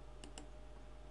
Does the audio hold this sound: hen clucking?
no